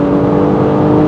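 An Audi S5 in dynamic mode with exhaust flaps open, floored hard, producing a loud, steady, close engine drone for about a second with no talking.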